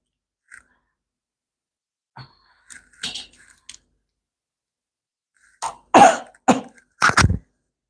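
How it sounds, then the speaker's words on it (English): A few scattered short sounds, then a cluster of sharp coughs and throat-clearing near the end, close and fairly loud with quiet gaps between. "I don't want to cough in front of the mic."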